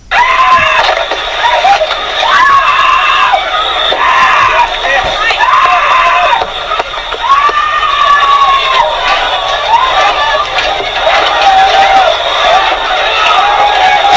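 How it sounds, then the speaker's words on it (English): Many voices scream and shout at once from people caught in a fire, a loud, continuous chaotic din, with cries rising and falling throughout. "you can hear the screams of people in the fire"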